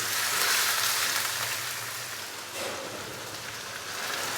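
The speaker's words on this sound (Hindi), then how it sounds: "और चिकन को भून लेंगे 5 से 7 मिनट के लिए" Chicken pieces frying with ginger-garlic paste, giving a steady, close hiss and crackle of hot sizzling throughout, loud at first, easing a little midway, then rising again.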